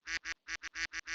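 A human voice imitating duck quacks, seven short nasal quacks in quick rhythmic succession, close and alone.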